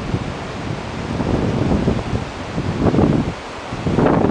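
Wind gusting outdoors on the open Patagonian plain, buffeting the microphone in uneven surges that swell and ease over a few seconds, loud and close with no voices.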